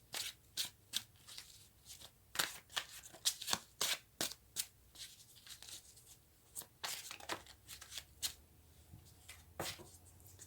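Tarot cards being shuffled by hand, a quiet run of crisp riffling bursts and soft slaps repeating irregularly for about ten seconds, close to the microphone with no talking.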